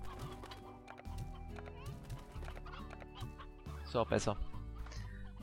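Roosters and chickens cluck on a farm in the video game Slime Rancher, with repeated clucks and one louder burst near the end, under someone speaking German.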